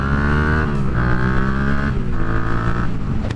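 A 2018 Yamaha MT-09 cross-plane three-cylinder motorcycle engine revs loudly and close, its pitch climbing and falling through three throttle blips before cutting out at the end.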